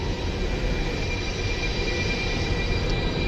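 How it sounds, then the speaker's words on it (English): Intercity train at a railway station in Italy, a steady broadband rumble and hiss of the train filling the scene without clear breaks or talk. "This is the railway station. This is the intercity train."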